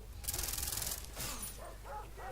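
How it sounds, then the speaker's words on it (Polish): A dog in the video game Far Cry 3 growls and snarls aggressively, close and rough, over steady game background noise. "Coś słyszę, jakie warczenie."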